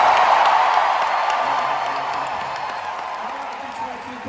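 An audience at the Disney D23 Experiences Showcase applauds and cheers, a broad wash of clapping that is loudest at first and slowly fades, with a voice talking over it.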